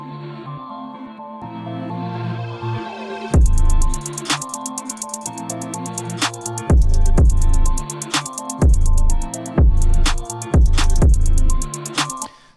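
A beat intro that starts muffled and washed in reverb, then opens up as the filter and dry level rise, flowing into a sampled loop with heavy booming bass hits and crisp rapid hi-hats, loud and continuous.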